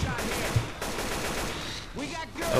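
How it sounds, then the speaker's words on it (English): Rapid automatic gunfire from shooting zombies in Left 4 Dead 2 rattles continuously at close range, overlapped by game noise and a player's voice. "I've been shooting zombies non-stop for like a minute now"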